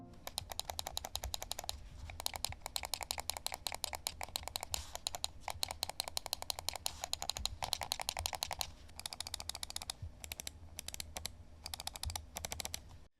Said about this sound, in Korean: 그럼 이제 마우스 클릭 소리 한번 들어볼게요.